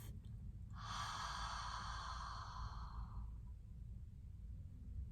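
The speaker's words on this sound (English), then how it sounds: "exhaling out through the mouth" A single long breath out through the mouth during a guided tapping relaxation exercise, a soft airy exhale lasting about three seconds over a low steady background hum.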